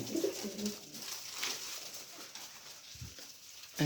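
A pair of kokka pigeons coos softly in a loft, low murmuring calls repeating near the start and again briefly toward the end against a faint background hiss.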